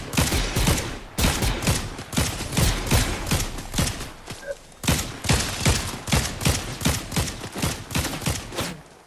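Rapid bursts of video-game gunfire crackle in a steady volley, shots stacking close together and loud throughout, with a brief pause midway before the firing resumes.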